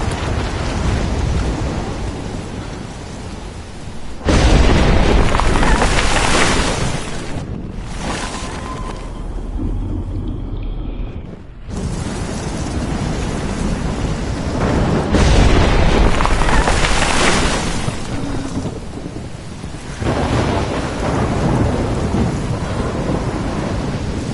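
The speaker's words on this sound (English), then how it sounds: "Never seen a storm like this in Oregon." A thunderstorm with heavy rain in the game Life is Strange, set in Oregon: loud rolling thunder crashes and booms surge over a constant roar of downpour, with several big swells and a brief lull midway.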